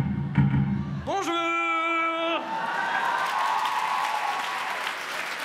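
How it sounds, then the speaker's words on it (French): Applause and cheering fill a comedy show hall, starting after a loud held vocal note with whoops and shouts, then settling into steady, moderately loud clapping from the crowd. "pourquoi il y en a que 7 qui applaudissent comme des cons?"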